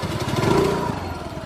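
A small scooter engine runs steadily close by at a constant idle-like drone, without any talk.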